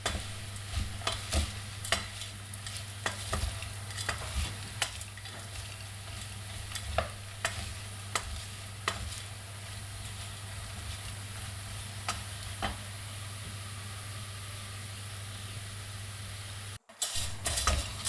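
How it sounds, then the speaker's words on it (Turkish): Noodles sizzle steadily in a hot pan while a utensil scrapes and taps against it repeatedly, close up, with no talking. "Hemen bir 3-5 dakikada kızaracaklar zaten. Kızarmaya başladılar gördüğünüz gibi."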